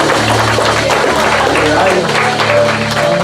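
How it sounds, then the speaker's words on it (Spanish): Loud, dense applause from a church congregation fills the space steadily throughout, with low voices and crowd murmur mixed underneath. "aplauso fuerte"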